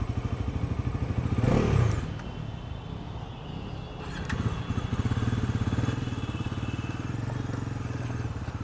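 A Bajaj Pulsar NS400Z motorcycle engine on its first ride gives a steady, pulsing drone with a brief rise in revs early on, then holds an even note throughout.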